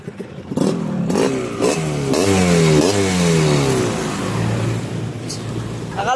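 A trail motorcycle revs up and down close by in repeated rising surges, its engine note sweeping upward several times, with a faint voice in the background.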